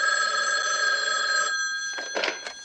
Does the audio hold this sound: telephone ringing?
yes